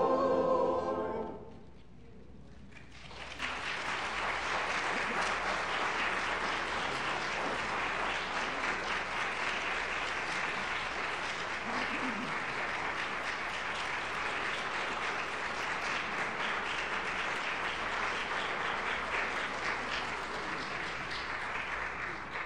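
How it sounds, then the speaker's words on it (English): After a brief tail of singing, an audience at a retirement-community choir's spring concert breaks into warm, sustained applause that stays loud and even for about twenty seconds. "Your generous applause is our greatest reward."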